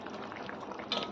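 Basanti pulao simmering in a pot with sliced gondhoraj lemon and a few gondhoraj leaves, giving a steady close bubbling hiss with a brief louder burst of bubbling near the end.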